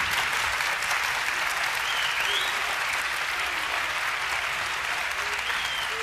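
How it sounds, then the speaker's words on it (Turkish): Studio audience applause at the Turkish TV talent show Popstar: a dense, steady clapping roar that holds at full strength from start to finish. "Bu alkışlar ne için biliyorsunuz?"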